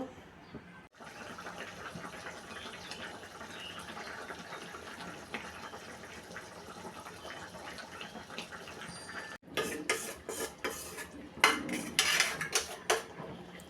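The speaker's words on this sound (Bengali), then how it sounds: "ঝোল দিয়ে নেড়ে উতরিয়ে মাখা মাখা করে নিব" A pan of rohu fish masala is stirred with broth, giving steady soft scraping and liquid sloshing for most of the stretch, then sharper, louder clinks and scrapes of a utensil against the pan near the end.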